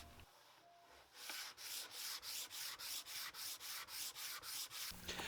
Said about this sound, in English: took a piece of wood with a piece of sandpaper to go with the grain as best as I could